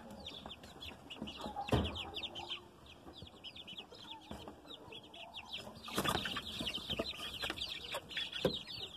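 Dozens of 32-day-old Isa Brown chicks cheep steadily, with thin, high chirps overlapping throughout and occasional clucks and soft wing flutters close by.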